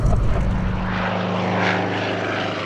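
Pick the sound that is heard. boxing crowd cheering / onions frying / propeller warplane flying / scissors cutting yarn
propeller warplane flying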